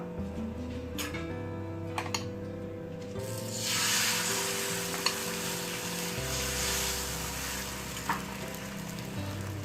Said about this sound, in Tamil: இப்போ வந்து முட்டையை ஊற்றிடலாம்